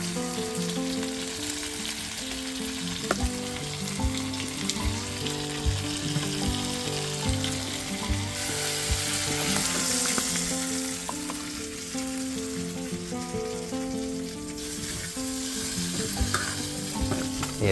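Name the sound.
fish frying on a wood-fired stove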